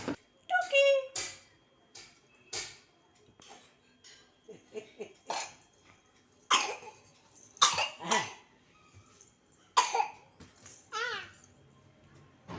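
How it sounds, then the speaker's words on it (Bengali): Several short, sharp coughs scattered among soft childish babble and breathing, close by, with quiet pauses between. "মাঝে মধ্যে দু একটা কাশি দিচ্ছে"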